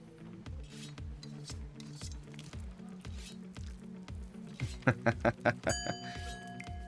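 Bell chimes ring out in The Universim city-building game, a bright sustained tone entering near the end over a steady rhythmic pulsing loop of game sounds and several louder clanking hits.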